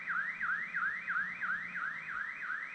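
Car alarm sounding near a house by Rocky Lake, Maine, a repeating electronic siren that rapidly sweeps up and down in steady cycles, moderately loud, alone without talk.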